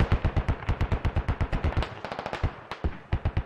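Heavy machine gun fire rattles in rapid, steady bursts in a squad-based military shooter game, with the bursts briefly breaking off near the middle before resuming, loud and close with no talking.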